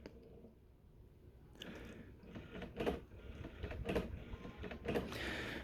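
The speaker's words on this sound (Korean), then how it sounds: "모터 돌아가네요" An HP OfficeJet 9010 printer's repaired ADF scanner motor runs with soft whirring and rhythmic mechanical clunks that build and repeat roughly every second, close but fairly quiet, with no talking.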